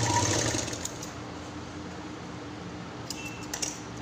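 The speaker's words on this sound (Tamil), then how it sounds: "பிளாஸ்டிக் ஷீட்னால் நம்ம தைக்கிற போது லேசாக வழுக்கலாம்" Sewing machine stitching a plastic sheet pouch, a quiet, steady mechanical whir and rapid needle chatter running continuously with faint clicks near the end.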